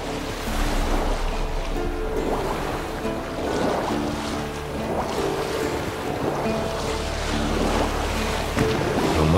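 A leaky homemade boat drifting on open water in thick fog, with steady waves lapping and sloshing against the hull and a constant wash of wind, close and continuous with no voices.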